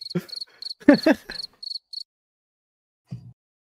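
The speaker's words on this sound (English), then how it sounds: "Crickets." Crickets chirp in short, high, evenly spaced pulses as a comic silence effect, followed by a brief low murmur.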